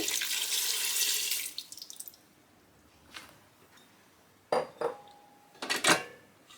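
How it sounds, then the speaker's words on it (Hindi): Water pours steadily into a cooking pot for a couple of seconds, then stops; metal clinks and a short trickle follow, close by with no talking. "दो कप पानी डाल देंगे।"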